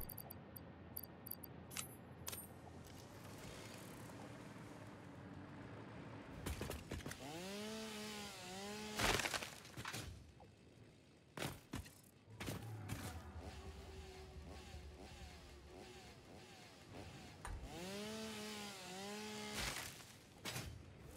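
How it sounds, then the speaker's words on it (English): A chainsaw cuts wood in the video game Satisfactory, revving in repeated rising and falling whines over a steady loud motor drone, with sharp cracks and bursts scattered throughout. "Chainsaw time!"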